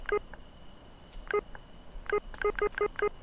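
Phone keypad button tones in a retro-styled video game, a short beep, a pause, then a quick run of about six beeps, clear over a faint steady hum.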